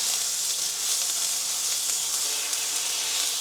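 A steak sizzles hard in a hot pan, a loud, steady broadband frying hiss that holds evenly for a few seconds, close up and with no voices over it.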